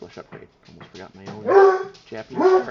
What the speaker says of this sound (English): That's my dog of war back there